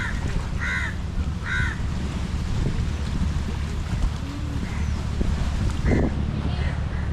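A crow caws a few times on Pulau Ubin island in Singapore, mid-distance over steady outdoor wind and rustling ambience.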